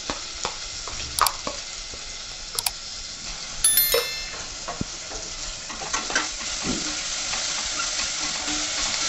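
An onion-coconut masala paste fries in hot oil for a Marathi mutton curry, giving a steady soft sizzle with scattered clicks and scrapes of stirring, close and moderately loud, with no talking.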